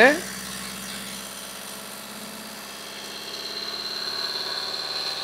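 A diesel car engine runs at low rpm with a steady, muffled hum that rises slightly toward the end, after a short sharp sound at the start. It plays alone at moderate loudness.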